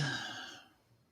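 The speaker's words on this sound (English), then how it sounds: "Breathing deeply." A single slow, deep exhale during a Kundalini yoga stretching session: a soft, breathy whoosh, close and quiet, that fades away within about a second.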